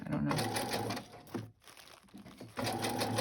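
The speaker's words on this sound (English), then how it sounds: "it goes easily through the sewing machine" A sewing machine stitches through pattern paper pockets in quick bursts, pausing briefly mid-way before running again, close and fairly loud, with a person talking over it.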